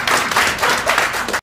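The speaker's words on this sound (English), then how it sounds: "Clap for them!" A crowd bursts into applause, dense close clapping that swells and dips steadily before cutting off abruptly at the end.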